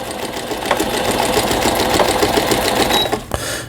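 A Brother 847 computerized sewing machine, slightly shaky, stitches a decorative bird-like pattern with a loud, close, rapid mechanical chatter of needle strokes running steadily throughout.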